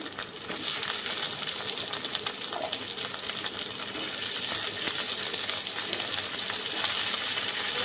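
Cut potato, pumpkin and ridge gourd sizzle with browned onions in a pan, a dense crackling fry close by that grows louder as the vegetables settle in, with faint stirring clatter and no speech.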